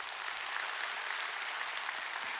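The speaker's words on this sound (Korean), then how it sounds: "애터미 회사에 진심으로 박수를 보내고 싶습니다" Faint, steady applause from an audience at a product presentation seminar, a soft, even patter of many hands clapping that continues without a break for about two seconds.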